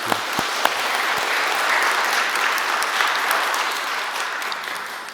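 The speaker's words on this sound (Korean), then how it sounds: "우리 환영의 박수 하겠습니다" A church congregation at Sunday worship applauds in welcome for returning family members, a sustained dense round of clapping that swells slightly in the middle, with a few sharper individual claps near the start.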